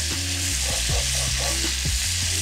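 Food frying in a pan sizzles loudly and steadily, with a few soft scraping stirs as it is turned, no voices over it.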